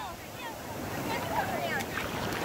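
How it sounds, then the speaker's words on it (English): Large ocean waves wash and roll along a Maui shoreline in a continuous broad surf roar mixed with wind noise, with a voice speaking faintly underneath. "Another big wave,"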